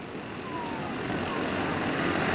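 Race cars at Delta Speedway accelerate away on a green-flag restart in 1997, their engines forming a dense, rising roar that grows louder through the clip.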